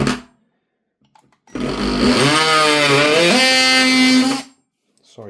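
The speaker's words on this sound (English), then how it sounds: "When you press the trigger, it vibrates backwards and forwards and gives that saw motion." A reciprocating saw cuts into an airsoft gun part in a single loud, buzzing burst of about three seconds that rises in pitch partway through, set between short stretches of near silence.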